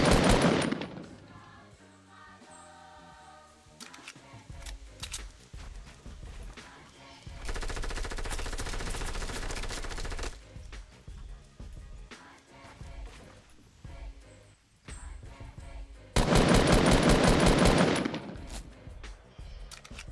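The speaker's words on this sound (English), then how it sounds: "That's a sniper from far" Gunfire in a Fortnite Battle Royale squad match: rapid bursts of shots and a couple of loud, sharp blasts, with quieter stretches between the volleys.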